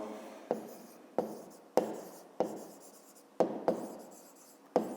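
A fifth-grade math solution about fuel costs being written out: close, dry scratching strokes, each opening with a sharp tap, repeating roughly every half second with no voices.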